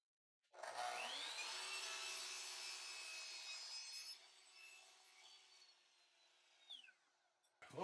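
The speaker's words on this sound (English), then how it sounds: "So I'm taking it over to the miter box and just gonna basically cut it in half and then" Hand saw cutting through wood in a miter box: a steady, close rasping stroke sound that runs for several seconds, then softens and tapers off, with a sharp knock at the end.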